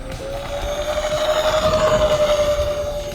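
A remote-controlled aircraft, one with telemetry, takes off with a steady high motor whine that holds a near-constant pitch, loud and close, over a pulsing rotor-like flutter.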